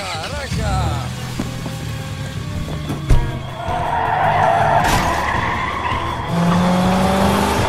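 A car speeds off with skidding, squealing tires in a zombie horror film, the engine revving hard beside near, loud tire screech, with shouting voices and other film sounds around it.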